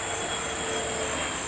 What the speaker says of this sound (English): Sorry about the jet noise in the background.